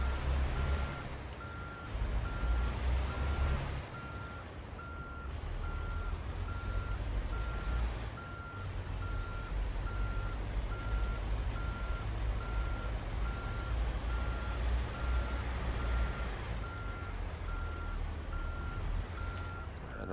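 A truck backing a trailer in American Truck Simulator, with a steady reversing beep repeating over the loud low diesel rumble of the engine throughout, plus a few brief bursts of air.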